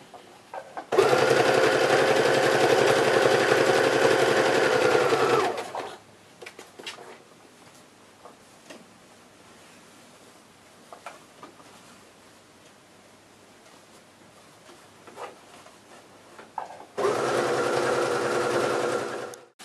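A sewing machine stitches a poncho seam in two steady, close bursts, one lasting about four seconds and a shorter one near the end, with quiet fabric rustling in between.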